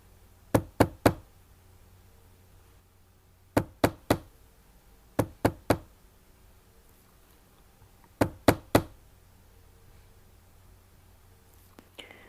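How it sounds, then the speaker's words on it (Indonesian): Knocking on a car door as a horror story sound effect, sharp knuckle raps in tight groups of three repeated four times with quiet pauses between, close and clear. "Tiba-tiba ada yang mengetuk pintu mobil saya."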